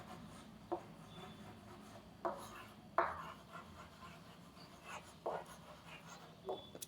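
A hand writes out a maths solution on paper, with five or six short scratchy pen strokes spread out at irregular intervals, faint and close, under a steady low background hum.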